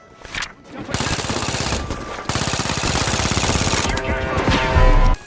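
Rapid automatic fire from an M11 SMG in The Finals rattles in long, dense bursts, loud and close, with short breaks between strings of shots.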